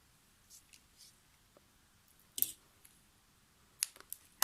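Strong adhesive tape handled while making a card, a few faint, brief crackles and sharp snaps scattered through near silence, with a louder tearing click midway and another cluster near the end.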